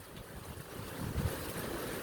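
Strong wind gusting along a coast as a hurricane approaches, a steady broad roar buffeting the microphone with a heavier gust midway and surf noise beneath it.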